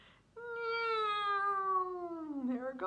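A human voice imitates a cat's meow, one long drawn-out tonal cry that bends downward near its end, fairly close and alone.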